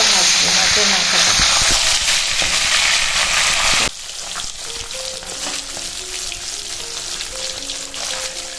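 A large fish head fries in a pan of hot oil, giving a loud, dense hiss for about four seconds before it drops to a quieter, steady sizzle.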